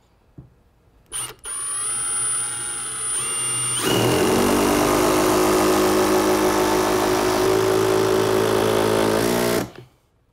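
A Milwaukee M18 FUEL SURGE hydraulic driver spins up loudly and drives an 8-inch GRK screw into a 2x4, with a steady whir that deepens into a heavier, sustained drone before cutting off abruptly.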